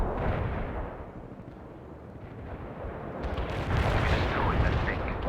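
Artillery strike in World in Conflict, a dense rumbling barrage of booms and blasts that grows louder toward the end, with game voices faintly underneath.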